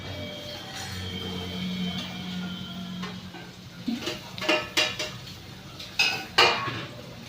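Bhaji is stirred and mixed in a metal pot, first with soft scraping, then a run of sharp spoon-on-pot clanks and knocks toward the end, close and fairly loud.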